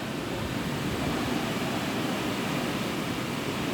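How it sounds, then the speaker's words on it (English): Strong Hurricane Dorian wind rushes around a home outdoors, a loud, unbroken roar of broadband gusting noise that stays dense and steady, with no voices over it. "just hear the whistle, just like somebody is whistling so hard that it's causing really just a lot of wind"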